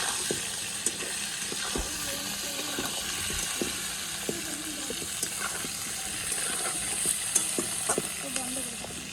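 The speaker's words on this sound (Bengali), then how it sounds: "বেগুনটা আগে থেকে কেটে ধুয়ে রেখেছি দিয়ে একটু নাড়াচাড়া করবো" Eggplant pieces sizzle in hot oil in a pan while being stirred, a continuous frying hiss broken by regular scraping and tapping strokes of a spatula.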